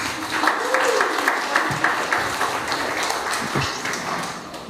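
A crowd at a fitness competition media day claps for the teams, a dense steady patter of hands with voices talking and calling out over it.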